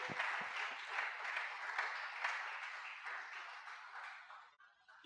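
Applause from a congregation at a Sunday celebration service in a French-speaking church, a dense, even wash of clapping heard from some distance that gradually thins out toward the end.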